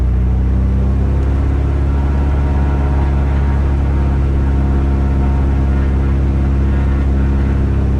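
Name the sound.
Mooney M20J aircraft engine run-up to 2,000 RPM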